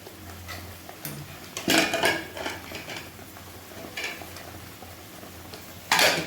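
Spice masala for mutton is stirred in a pan, with intermittent metal spoon scrapes and clinks against the pan over a low frying sizzle, several louder bursts at irregular intervals.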